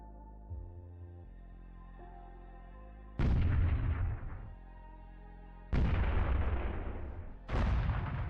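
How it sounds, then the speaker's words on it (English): Modded Lich vehicle in Halo 3 setting off explosions: three loud, sharp booming blasts, each with a long crackling rumble decaying behind it, following a low droning hum. "it just sounds like some kind of an explosion"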